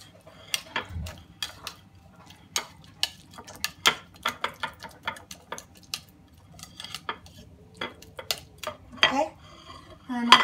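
Salmon dish ingredients stirred together in a bowl with a utensil, a string of close, distinct clinks and scrapes in an irregular rhythm over a quiet background.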